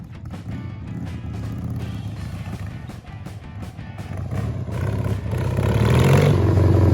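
A Harley Roadster XLS1000 motorcycle engine on a 1970s chopper build thumps with an uneven, rough beat at first, then swells louder as it is revved toward the end.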